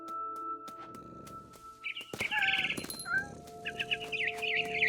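A mother bird squawks and clucks in short bursts in the video game What Remains of Edith Finch, with a steady tone and ambient game noise underneath.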